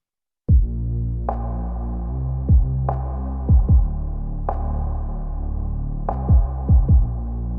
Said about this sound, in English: Coming snares, hi-hat. Together with the bass coming in.